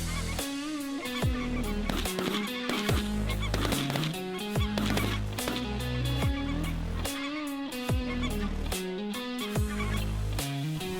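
Snow geese, mostly Ross geese, honk in a dense flock during a foggy fall migration hunt over a spread of full-body decoys. Loud, overlapping calls come in rapid bursts throughout, and nobody speaks.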